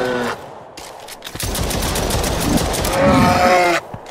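Repeated rapid gunshots in the survival shooter EXOME ring out in a loud, sustained volley amid alien-infested combat noise, ending abruptly.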